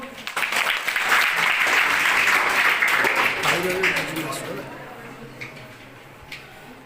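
Audience at a school Republic Day event in Ganjam, Odisha bursts into loud, dense clapping that swells early, holds for several seconds and then tapers into scattered claps, with voices heard over it.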